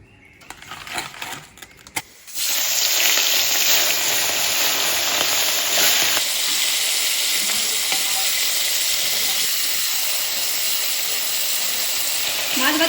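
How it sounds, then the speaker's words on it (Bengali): Freshwater giant prawns from a river, coated in salt and turmeric, drop into hot oil after some brief clattering and burst into a loud, dense, continuous sizzle heard close up. "মাছ ভাজা হয়ে গেছে, এখন নামিয়ে নেব।"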